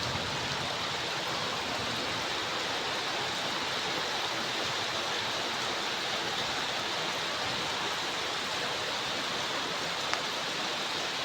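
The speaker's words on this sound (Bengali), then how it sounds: "কি সুন্দর বৃষ্টি হইতেছে ধীরে ধীরে ধীরে ধীরে" Gentle rain falls steadily on a village, a dense, even hiss that continues throughout with no voices.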